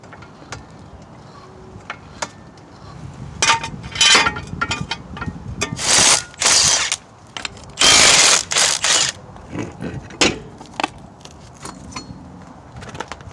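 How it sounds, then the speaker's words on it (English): A floor jack ratchets under the differential of a 1993–98 Jeep Grand Cherokee, raising the rear end; several loud bursts of clicking pawl strokes come in quick groups, close and alone. "I'm lifting the rear end using the differential as a jacking point"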